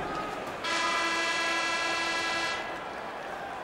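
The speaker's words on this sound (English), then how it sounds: "And with the sound of the horn, that means the conclusion of period number one" An end-of-period horn in the NHL 20 hockey video game sounds one steady, loud blast lasting about two seconds over a background of crowd noise.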